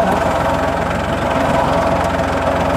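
A heavy tractor engine chugs steadily nearby while preparing planting beds in a field, its low rhythmic thumping and vibrating drone running continuously without pause.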